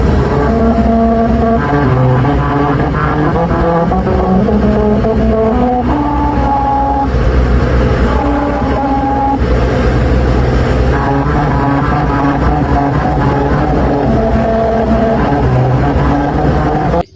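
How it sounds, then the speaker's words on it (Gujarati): A car driving over a musical road in Mumbai, the tyres on the grooved surface playing a steady melody of distinct tones that runs continuously and loud throughout without a break. "આમાંથી ગાડી લઈને હાલતા હોય ને એટલે એક નંબર સૂર સંભળાય"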